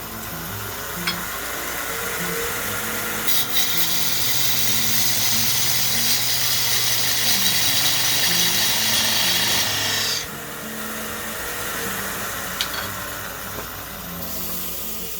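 A tool cuts a groove into a wooden baseball bat turning on a lathe, a loud continuous scraping rasp that pauses briefly near the end and then resumes.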